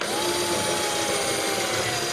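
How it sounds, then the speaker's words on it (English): A power drill bores a hole through an epoxy LED lamp base for the cord, a steady close whine running continuously without pause. "what I'm going to do is go ahead and drill a hole in here so the cord can go out the bottom"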